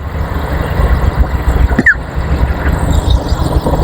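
A Toyota Camry 2.0 G, 2020 model, idles with the hood open, a close steady low engine hum with a short sharp squeal near the middle.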